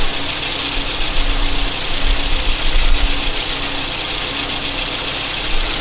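A 1987 VW Cabriolet engine idling during an idle mixture adjustment, a steady close low rumble with a slight rhythmic unevenness, loud and alone with no talk.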